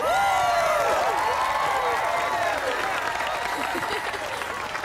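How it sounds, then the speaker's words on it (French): A crowd at a sixteenth birthday party applauds and cheers, steady clapping mixed with whoops and excited shouted voices, loud and continuous throughout. "Un tonnerre d'applaudissements pour les organisatrices de cette fête, Abby et Krista."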